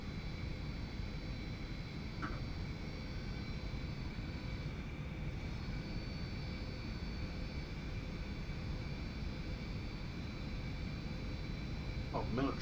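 An Eclipse jet's engine drones steadily in a flight simulator over Apple Valley, California, a continuous mid-loudness whine and rumble with a few faint clicks, no talk heard.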